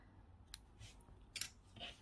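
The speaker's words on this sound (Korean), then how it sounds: "돗바늘이 들어갈 정도의 여유실을 두고 실은 잘라주세요" Scissors snip through acrylic crochet yarn after a slip stitch finishes a square motif, a few quiet, brief cuts close by with no talking.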